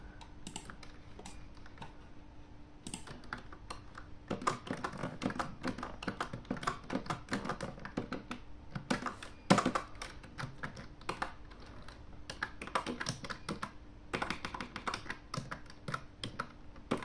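Quiet close-up typing on a computer keyboard connected to a budget mini PC, with irregular bursts of key clicks, brief pauses and a faint background hum.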